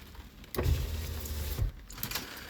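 An electric power window on a car runs down with a steady motor whine, close and fairly loud. It begins with a clunk and ends with a second thump, over low cabin rumble.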